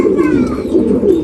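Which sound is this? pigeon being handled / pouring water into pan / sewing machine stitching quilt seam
pigeon being handled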